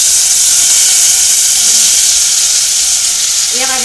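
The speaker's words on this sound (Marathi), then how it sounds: "या भाज्या सगळ्या तेलामध्ये चांगल्या परतून घ्यायच्या." Marinated vegetables hit hot oil in a pot already used for frying onion, giving a loud, close, continuous sizzle and hiss; a brief voice starts right at the end.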